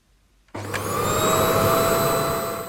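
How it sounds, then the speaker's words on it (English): A hoover switches on abruptly after a moment of quiet, then settles into a loud, steady whine with a high motor tone as floors are vacuumed up close. "I hoover crumbless floors"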